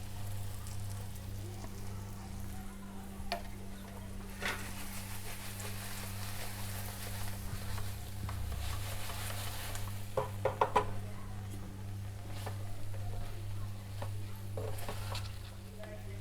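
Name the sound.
stirring masala into roasting chillies in pan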